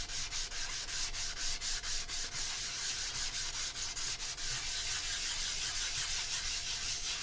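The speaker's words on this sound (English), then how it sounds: "Let the sanding take over" Sandpaper rubs steadily over a surface being prepared for cave art painting, a close, continuous scratchy hiss with a faint back-and-forth pulse running the whole time.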